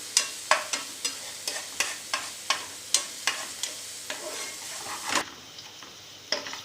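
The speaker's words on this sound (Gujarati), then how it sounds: "જોઈ શકો છો આપણો મસાલો બરાબર સતળાઈ ગયો છે" Masala sizzling in a hot pan while a spoon scrapes and stirs it in steady strokes, each stir producing a sharp clack over the soft frying hiss; close and fairly quiet, with no talking.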